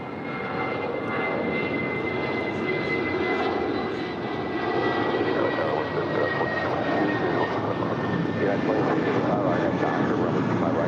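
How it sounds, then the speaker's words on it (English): An American Airlines Airbus A319 jet departs Los Angeles bound for Phoenix, its engine roar a steady, broad rumble held at even loudness throughout, heard from a distance with faint talk beneath. "This is American 413 off to Phoenix. It's an A319."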